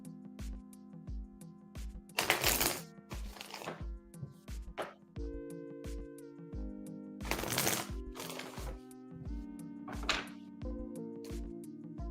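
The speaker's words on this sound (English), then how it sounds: "All right, Pooja, we're shuffling for you now." Tarot cards being shuffled by hand in repeated riffling bursts over soft background music, fairly close and moderately quiet.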